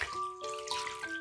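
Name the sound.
walnuts being rinsed under cold running water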